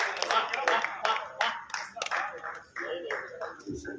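Audience clapping at a kavi sammelan poetry gathering in Musafirkhana, bursts of hand claps rising and falling across the crowd, fairly close and lively, with a voice talking over it.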